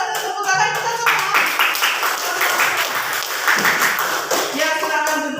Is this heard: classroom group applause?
yes